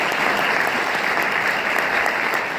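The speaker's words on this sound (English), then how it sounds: "please join me in giving them a round of applause" An audience gives a round of applause at the Bo Johnson Spirit Award presentation, with dense, steady clapping at even volume throughout and no speech over it.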